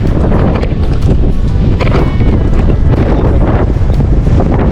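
Strong wind roars and buffets continuously at close range, loud and steady for the whole stretch with no voices.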